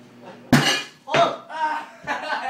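An egg bursts inside a microwave with a sudden loud bang that throws the door open, followed by a few rattling clatters and scrapes as it settles.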